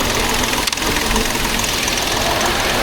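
A diesel car engine idles steadily and close up, a continuous even rumble with a faint knocking texture and no other sounds.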